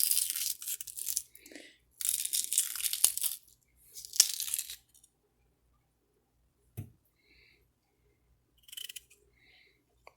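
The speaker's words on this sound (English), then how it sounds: "put your paring knife right down in there, and just cut that out" A paring knife cuts a hollow spot out of a raw potato: close, dry scraping and crunching strokes in bursts, with a couple of faint clicks and long quiet gaps between.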